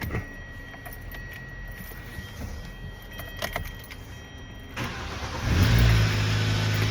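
Keys jingle in the ignition of a car with freshly changed passenger-side brakes, and near the end the engine cranks and fires up into a loud, close rumble.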